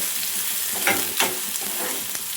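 Chopped onions fry in hot oil for egg bhurji, a dense close sizzle with two or three brief stirring scrapes, steady and loud with no voices.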